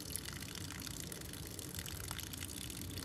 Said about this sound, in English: Obviously that goes a little bit slower now than when you do it without the filter, because the water is passing through the filter